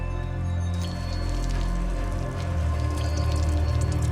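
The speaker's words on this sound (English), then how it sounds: "I love that little detail that even the rain droplets are hurting him." Steady rain pours down in the Spider-Man 2 video game, a dense, constant patter of droplets with no talk over it.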